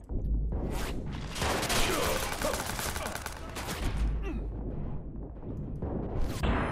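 Gunfire from the video game Watch Dogs on PS4: dense, sustained bursts of rapid shots fill the middle seconds, with a few scattered shots before and after, loud and busy throughout.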